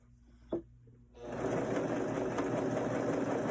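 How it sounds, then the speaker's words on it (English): Overlock serger cutting and stitching a cloth diaper, starting after a short quiet pause and a single tap, then running as a loud, steady, fast whirring drone. "I'm doing an overlock stitch. It cuts and serges and does the overlock stitch at the same time"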